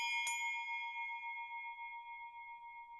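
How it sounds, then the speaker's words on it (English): A single bright bell chime strikes once, then rings on with a clear, sustained tone that slowly fades. "Click that notification bell."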